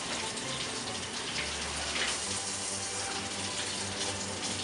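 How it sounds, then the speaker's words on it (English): Tap water running steadily as hands and arms are rinsed during an operating-room surgical hand scrub, a constant close hiss and splash with no pauses. "rinse hands and arms, allowing water to drip from the elbows"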